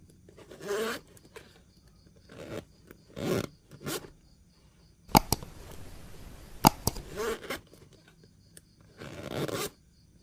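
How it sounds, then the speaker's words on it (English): A repaired clothing zipper zips in several short rasping bursts separated by pauses, close and crisp, with quieter rubbing and handling sounds in between and no talking. "allowing the zipper to close smoothly and perfectly, just like new"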